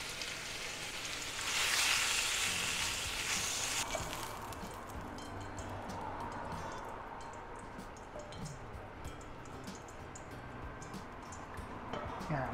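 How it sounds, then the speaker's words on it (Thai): Bacon renders its fat in a hot pan, frying with a steady close sizzle and sputter that swells loudly early on and then settles into constant crackling and popping, with no talking. "อันนี้เราก็เอาเบคอนมาเจียวก่อนนะเพื่อจะเอาน้ำมันออก"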